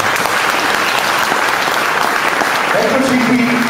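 A studio audience applauds loudly and steadily throughout, a dense wash of clapping close to the microphone, with a brief tone sounding near the end.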